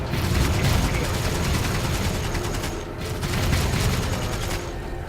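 Dense gunfire crackles through a Dawn of War 3 battle, continuous bursts of shots layered over a loud, busy game soundscape.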